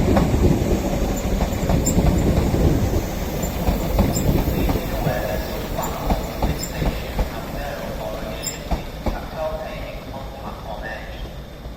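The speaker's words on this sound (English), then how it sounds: "Here is a Northern 319 doing empty stock movement" A Northern class 319 electric train, unit 319 367, runs an empty stock movement through Crewe station on the West Coast Main Line, its steady rumble and clattering wheels fairly close and loud throughout, fading slightly toward the end.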